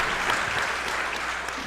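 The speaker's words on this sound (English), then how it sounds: "give a round of applause for that" Applause from an audience at a church event fills the whole moment with a steady, dense wash of clapping that holds at an even, fairly loud level throughout.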